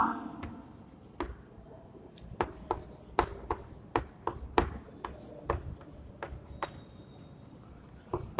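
Pen writing on an exam paper on a desk, close and quiet: a steady series of sharp taps and strokes in an uneven rhythm over a soft background hiss.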